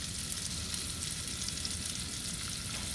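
Celery sizzles as it hits hot fat in a soup pot, a steady, close, broadband frying hiss with fine crackle throughout and no talking.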